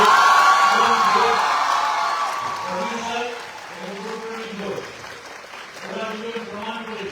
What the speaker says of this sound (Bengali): একটা খুব জোরে হাততালি দরকার